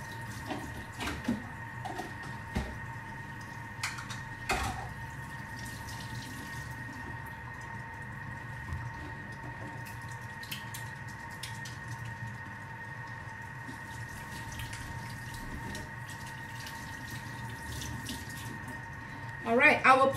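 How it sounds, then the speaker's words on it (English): A kitchen tap runs into a sink during handwashing, a faint, steady trickle and splash with a few soft knocks and clinks and a brief louder burst of water near the end. "let me wash my hand"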